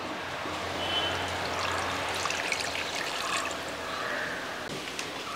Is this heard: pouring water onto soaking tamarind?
yes